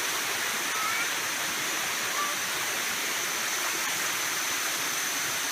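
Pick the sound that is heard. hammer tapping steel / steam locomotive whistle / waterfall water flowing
waterfall water flowing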